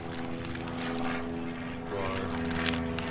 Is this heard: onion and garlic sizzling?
no